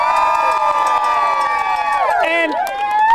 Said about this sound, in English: I mean, these crowds are crazy. Listen to that.